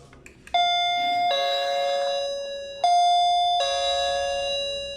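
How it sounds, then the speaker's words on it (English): Wireless doorbell playing its standard chime: two loud two-note ding-dong rings, each note ringing out and fading, heard alone and close. "So it's a standard chime."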